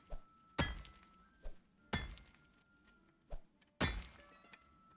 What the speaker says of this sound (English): I guess let's get chiseling